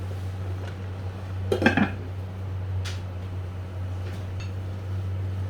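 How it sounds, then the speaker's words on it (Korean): A pot lid is set down over a simmering sweet potato stem dish with perilla seed powder, making one brief light clink. A steady low hum continues underneath, and faint clatters follow. "뚜껑을 잠시 닫아 놓을게요."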